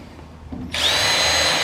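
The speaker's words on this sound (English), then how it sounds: "Right now we are pre-drilling a bunch of holes" A power drill spins up sharply and runs steadily while pre-drilling holes for nutserts in a vehicle quarter panel, loud and close after a brief quiet lead-in.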